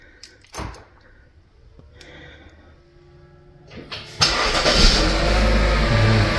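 A car starts on a cold winter morning in Calgary: a door clunk and brief clicks come first, then the engine cranks and catches into a loud, steady idle close by, with no talk.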